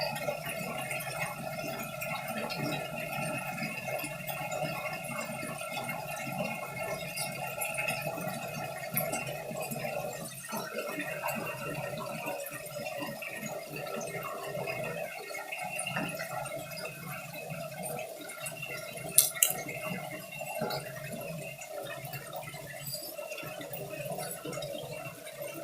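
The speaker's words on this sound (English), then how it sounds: "Just running a little bath water." Bath water pours steadily from a tap into a tub, a continuous even rush at moderate distance, with one small clink near the end and no talking.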